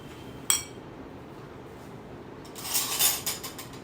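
A spoon stirs salt and turmeric into a batter in a bowl, giving one sharp clink early on, then a quick cluster of scraping and clinking taps a few seconds later, close and fairly quiet.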